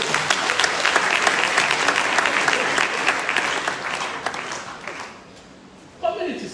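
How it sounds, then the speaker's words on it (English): Audience applause at an inaugural lecture, full and steady clapping that thins out and fades toward the end before a short sound breaks in. "Another round of applause for him, please."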